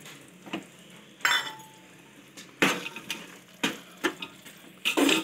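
Spoon clinks against a metal pan while fried almonds, cashews and raisins are stirred into pumpkin halwa with khoa, several sharp scraping strikes spaced across the clip with quiet gaps between, close and fairly loud, no voices.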